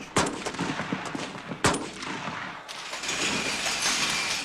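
Gunfire on a military firing range in a Vietnam War movie scene: several sharp loud shots early on, then a sustained noisy roar of continuing fire and reverberation.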